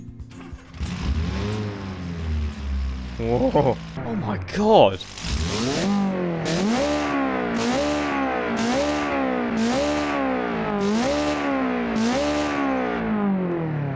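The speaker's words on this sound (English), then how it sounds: "That is possibly one of the best sounding automation cars I've ever made." A hillclimb car engine in the Automation video game revs hard and then settles into a steady, rhythmic rise-and-fall of repeated revving and accelerating pulses, loud and close, with a person exclaiming briefly over the start.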